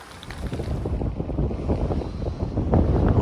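Strong wind buffets the microphone on a foggy, damp coastal morning at St. John's, a loud continuous roar with low rumbling gusts and no voices.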